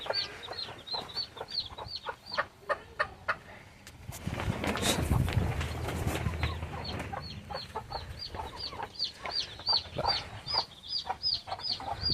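Breeder hens and roosters in a coop give a long run of repeated, rhythmic clucks and calls nearby, broken midway by a few seconds of louder rustling noise.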